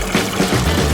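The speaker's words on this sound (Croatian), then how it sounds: "Mogu uzeti instant nudle i preliti vrućom vodom." Hot water poured over instant noodles, a short steady gush of liquid filling a container with a low bubbling, gurgling texture, close by and alone.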